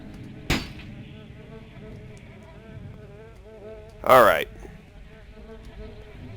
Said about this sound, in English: It's got that damn annoying fly buzzing sound.